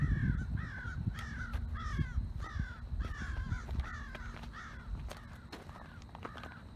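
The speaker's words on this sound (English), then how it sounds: "And now I have these crazy crows." Several crows caw repeatedly in a steady rhythm of harsh calls, fairly close, beside a freshly paved road under construction, over a low background rumble.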